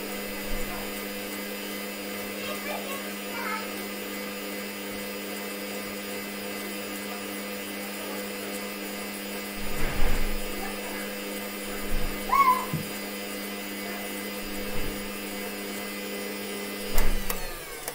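Electric mixer beating cupcake batter, a steady whirring drone running throughout, broken by a few soft knocks and bumps against the bowl.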